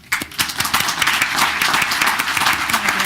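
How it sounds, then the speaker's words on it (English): Applause from attendees at a township committee reorganization meeting, dense steady clapping that starts abruptly and continues loud and even throughout. "Please join me in another round of applause."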